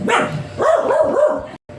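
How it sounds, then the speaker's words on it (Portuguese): A pet dog barks at a delivery man arriving with groceries at a home, giving a loud, close burst of three or four quick barks before briefly falling silent. "Esperei a Nina acabar de latir, porque chegou o rapaz aqui para entregar a compra"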